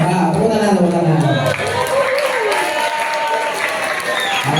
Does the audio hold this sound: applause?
yes